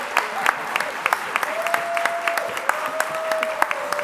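An audience at a sonography program pinning ceremony claps steadily, with dense applause and sharp individual claps standing out, plus a faint whistle or cheer running beneath it.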